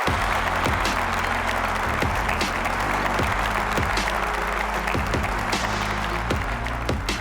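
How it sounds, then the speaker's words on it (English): A live-event audience gives a round of applause, loud, dense and steady for the whole stretch, with a rhythmic music beat pulsing underneath. "Can we give them a round of applause, everyone tuning in?"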